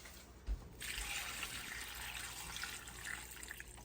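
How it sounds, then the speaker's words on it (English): Tap water runs steadily into a cooking pot of green beans set for blanching, a continuous hissing splash that starts abruptly and keeps flowing at close range with no talk. "I gotta add a little bit more water to that."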